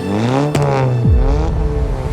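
A race car sweeps in with a rising engine whine, a sharp bang, then a steep drop in pitch as it passes close and settles into a low growl.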